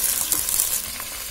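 Green garlic stalks hissing as they hit hot oil for a traditional bhogi vegetable dish, a short, close, steady sizzle with light stirring, no speech.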